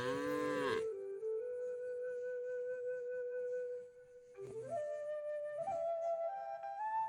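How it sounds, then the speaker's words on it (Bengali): Cattle grazing in an open rural field let out long, drawn-out moos, one ending early and another rising after a pause, fairly close and clear against a quiet background. "কি সুন্দর গরুগুলো"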